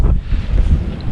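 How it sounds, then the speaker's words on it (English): Strong wind gusting at a lakeside campsite on a very windy day, a loud, steady low roar with heavy buffeting against the microphone and no voices. "Well, it is quite windy over here."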